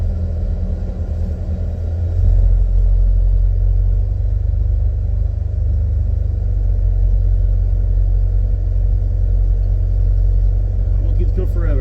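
A restored 1968 Ford Galaxie 500 sets off driving, its engine turning into a steady deep rumble heard from inside the car, with people talking over it.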